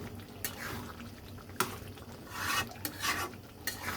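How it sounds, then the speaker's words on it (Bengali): Goat liver and lung are stir-fried with fresh spices in a pan. Repeated scraping stir strokes come close and moderately loud over a soft, continuous sizzle. "কলিজা এবং ফ্যাপসা কষানো হচ্ছে"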